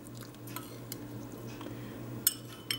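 A utensil stirring eggs in a bowl for an omelette, soft scraping with a few sharp clinks against the side, close by over a steady low kitchen hum.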